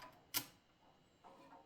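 An Erika typewriter made by Seidel & Naumann, its platen turned with the line spacing lever, gives one sharp mechanical click-ratchet, then a fainter softer rattle about a second later.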